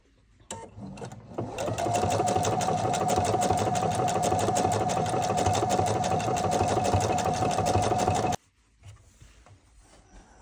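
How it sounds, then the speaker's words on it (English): A Viking sewing machine runs an applique stitch as a steady, fast mechanical chatter for about seven seconds, close and loud, with a brief start-up beforehand and an abrupt stop near the end. "I'm going to sew this on with an applique stitch, and I'm using my Viking"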